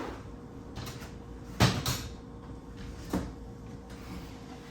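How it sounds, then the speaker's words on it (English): Dresser drawers in a small New York studio apartment sliding and bumping shut, two distinct knocks a couple of seconds apart over a quiet room background. "The drawers always slide out."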